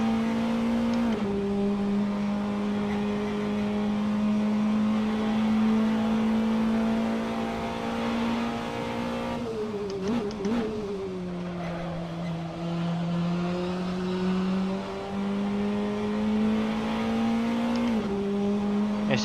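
Race cars without traction control in a racing video game drone with a steady engine whine that dips and climbs through gear changes and throttle shifts, continuous and close, with no voices.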